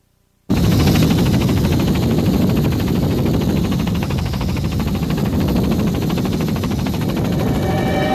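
An open helicopter flying over hurricane damage from Hurricane Andrew gives off a steady, loud rotor and engine roar with a fast chopping pulse, starting abruptly after a brief quiet moment and holding unbroken to the end.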